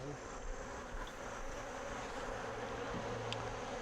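Honey bees buzz around a hive frame in a steady, dense drone, close and continuous, with a few individual bees whining past over a low background rumble.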